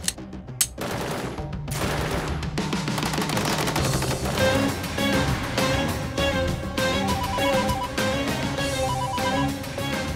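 A few isolated shots ring out, then dense rapid gunfire takes over and continues loudly, bursts overlapping in a constant barrage.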